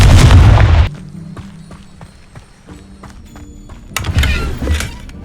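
Confringo explosion spell cast in Hogwarts Legacy, a loud burst at the start followed by quieter rumbling and scattered impacts, then a second strong blast near the end.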